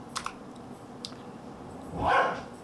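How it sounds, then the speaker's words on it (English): A puppy barks a few quick, faint yips in the background early on, then one louder, closer bark-like burst near the end, with some light clicking nearby and no talking. "there's a puppy in the background, I apologize"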